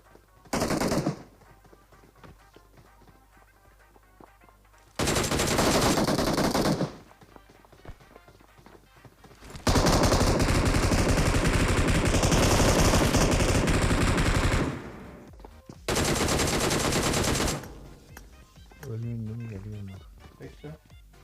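Automatic gunfire in PUBG Mobile comes in several loud, sustained bursts separated by quieter gaps, with a voice speaking between the volleys.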